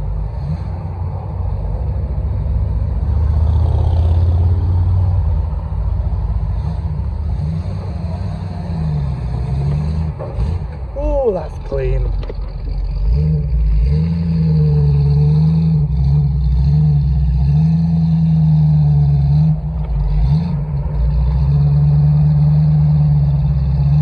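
A Nissan R33 Skyline's engine rumbles loud and close, swelling as the car revs and passes on a street in Alderley Edge, with low steady drone throughout.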